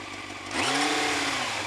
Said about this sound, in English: it does hold its revs quite a lot, doesn't it?